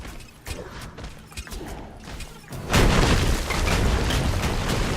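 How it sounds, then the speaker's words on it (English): Tower destroyed in a Smite Conquest match: scattered game impacts and clanks lead into a heavy booming collapse that stays as a loud rumbling roar to the end. "Well, we destroyed the tower if that counts."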